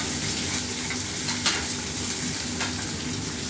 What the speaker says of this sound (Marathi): आता याच्यामध्ये आपण पहिल्यांदा टाकू हे बारीक चिरलेला कांदा लसूण